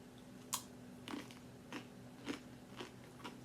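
Quiet, close crunching bites into crunchy cinnamon churros, about six separate crisp snaps spaced roughly half a second apart, with no one speaking.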